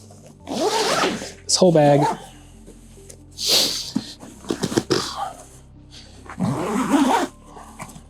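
A zipper is pulled shut on a packed bugout duffel bag, several quick rasping zip strokes up close, broken up by short bursts of a person talking and a dog whimpering and barking.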